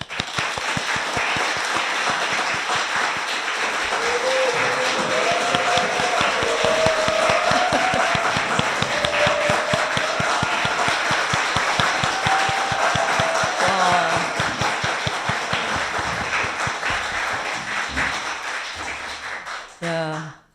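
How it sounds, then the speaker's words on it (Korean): An open-broadcast debate audience claps loudly to welcome three panelists, sustained dense applause for about twenty seconds with voices and a melodic tone over it, fading out at the end. "역대급 박수 아닙니까?"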